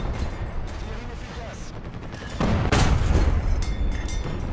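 A tank shell fired from an FCM 36 in a video game: one heavy blast midway that rolls into a sustained rumbling tail over ongoing battle ambience.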